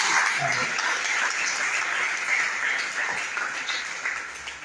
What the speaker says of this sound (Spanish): El fuerte aplauso.